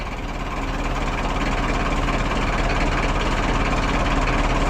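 A Mazda RF diesel engine runs steadily at idle, with a dense, continuous low rumble and knocking clatter that holds at a constant loud level throughout, heard close and alone.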